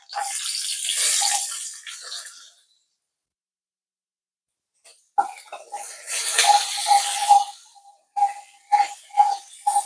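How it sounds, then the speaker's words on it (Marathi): Chopped onion tipped into a pan of frying green chillies for soya chunk manchurian, giving a broad hissing sizzle that cuts out, then returns in bursts with repeated tapping of a spoon against the pan. "आपण लगेच ह्याच्यामध्ये कांदा घालणार आहोत"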